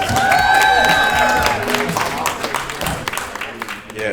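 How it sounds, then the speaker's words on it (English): A comedy club audience claps and cheers as a comedian is called to the stage, with whoops and steady clapping under a host talking over the noise, fading toward the end. "Start clapping."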